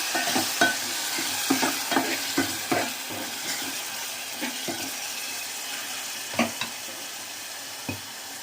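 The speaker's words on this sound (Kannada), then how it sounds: "ಆನಂತರ ಚೆನ್ನಾಗಿ ಫ್ರೈ ಮಾಡ್ಕೋಬೇಕು." Sizzling and frying in a pan with tamarind juice, broken by repeated scraping stirs at an uneven rhythm, close and moderately loud, with no voices.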